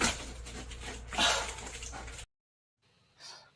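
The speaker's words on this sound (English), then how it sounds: "The dog made 2 saves with his mouth on a foam puck." A dog just back from playing goalie with a foam puck, whimpering and yipping with breathy panting, fairly close, then a short silence and one softer whine.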